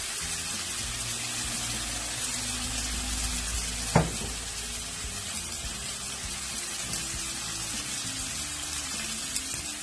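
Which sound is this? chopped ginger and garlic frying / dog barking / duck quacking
chopped ginger and garlic frying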